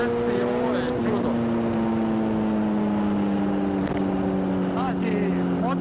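A Kawasaki ZZR 1400 motorcycle engine while riding, a steady droning hum with a strong tonal note under wind rush, holding nearly constant pitch with slight dips, loud and close.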